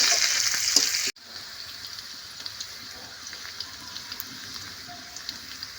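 Onions frying in a pan in a village kitchen: a loud sizzle at the start cuts off abruptly, followed by a quieter steady crackle with scattered pops, no talking.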